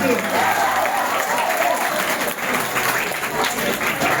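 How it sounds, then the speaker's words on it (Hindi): Loud, continuous applause from an audience honoring a top-scoring student at a school results event in Gangapur City, dense clapping with faint cheering voices mixed in throughout. "जोरदार तालियां इस बालिका के लिए"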